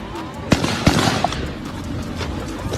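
Gunfire during an outdoor milk crate challenge recorded on a live phone stream: two or three sharp cracks in quick succession within a noisy, distorted recording.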